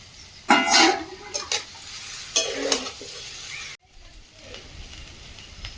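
Fried soybean chunks are tipped into a pan of potato curry and stirred, giving loud scraping and sizzling bursts, then quieter frying and a few utensil clinks.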